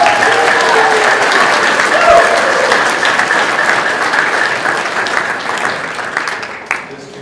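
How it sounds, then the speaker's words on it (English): A courtroom crowd applauds new citizens at a U.S. district court naturalization ceremony: sustained, fairly loud clapping from many people that gradually thins and fades toward the end, with faint voices beneath. "Let's have another round of applause for our new citizens."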